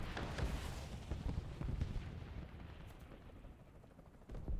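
Aircraft rockets launch in the War Thunder video game, a burst of rumbling booms and whooshing blasts that fade out over a few seconds, with no voice.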